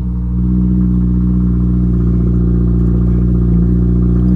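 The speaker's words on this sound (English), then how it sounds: "As you can hear the exhaust there running through" A 2022 Subaru WRX RS engine idles steadily just after starting, its exhaust giving a loud, continuous low rumble from close by with no talking.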